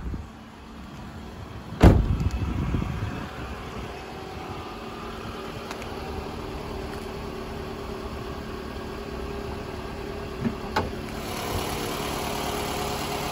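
A 2015 Toyota Tarago GLi engine idles steadily at close range, a low continuous rumble with a sharp thump early on and a brief knock near the end.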